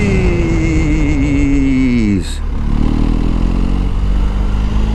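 A motorcycle leans into a turn as its engine drone drops in pitch under firm front braking mid-corner, then a short gap and lower steady engine rumble with constant loud wind noise.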